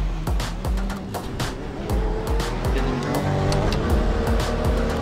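Sim racing race car engine revving in a video game, rising and falling repeatedly in short bursts with sharp gear-like spikes over a steady loud mechanical roar.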